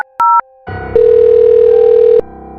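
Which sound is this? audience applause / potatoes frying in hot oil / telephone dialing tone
telephone dialing tone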